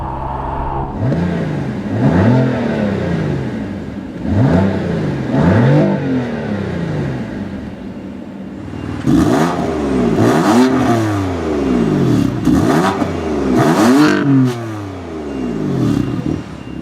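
Exhaust of a 2015 BMW M3/M4 revving in repeated bursts, first muffled and throaty with butterfly valves closed, then louder and raspier with crackling pops with valves open, as the engine climbs and falls.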